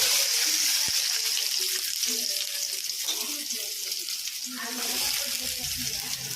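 Onions frying in a pan for Tamil-style prawn thokku, a loud, continuous hissing sizzle close by, with a single sharp knock early on and people chatting over the cooking.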